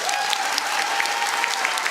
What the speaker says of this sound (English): Clap if you think that she and Mr. Johnson need to get out.